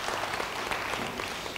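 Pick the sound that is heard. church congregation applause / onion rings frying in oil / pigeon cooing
church congregation applause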